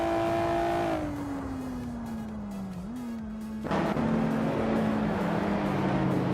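Race car engines in a racing video game, including a 1989 Mazda RX-7 Turbo, drone steadily at close range, pitch sliding down through a dip before a sudden louder surge of revving partway through, with no talking.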